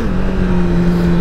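A 1000RR motorcycle accelerating on snow, its engine holding a loud, steady droning tone with slightly rising pitch, close up and without talking.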